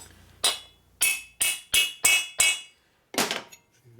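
Valve guides being hammered into a 1958 Harley panhead 74ci cylinder head: six sharp metallic ringing blows in a quick, fairly even rhythm, a pause, then one more strike, loud and close with no talking.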